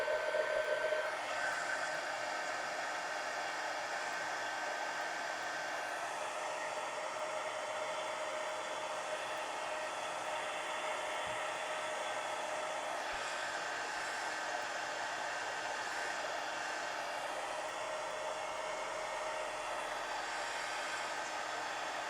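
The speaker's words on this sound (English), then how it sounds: "Heat gun." A heat gun runs steadily for the whole stretch at craft work on a collage steampunk mini book, giving a constant close hiss with a faint whine and no break or talk.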